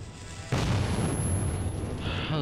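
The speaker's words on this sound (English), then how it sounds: "I love these grenades." A grenade detonates in the video game Metro 2033: one sudden, loud boom about half a second in, followed by a long rumbling roar and debris noise that carries on to the end.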